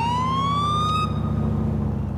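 An FBI police car siren in the video game GTA IV gives a loud, close rising wail that sweeps upward and holds over a low engine rumble, with no voices.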